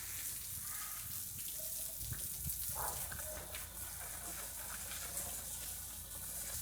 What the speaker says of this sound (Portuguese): Vou utilizar uma mangueira na bicicleta.